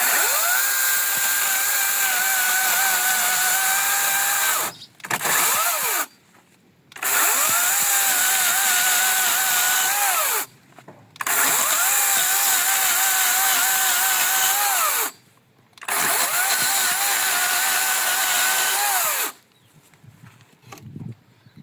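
A Worcraft CGC S40LiBA cordless chainsaw with a new chain cuts a dry board, whining loudly in four sustained bursts of a few seconds each, separated by brief silent pauses, close and alone.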